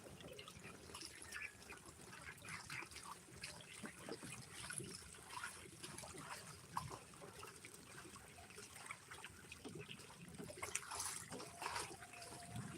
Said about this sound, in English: Here she goes a splashing.